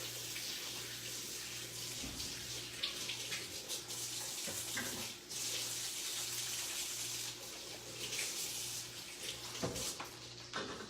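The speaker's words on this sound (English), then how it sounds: "Let me wash my hands again" Water runs from a kitchen tap as hands are washed, a steady close rushing stream broken by a few brief splashes and shifts in flow; no talking.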